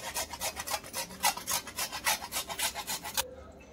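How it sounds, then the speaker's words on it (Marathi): Whole nutmeg is rubbed against a small kitchen grater for sesame chikki, a quick run of about fifteen rhythmic scraping strokes, close and moderately soft, then stopping. "आणि थोडंसं सुगंधासाठी आपण टाकूया जायफळ. किसून घेते"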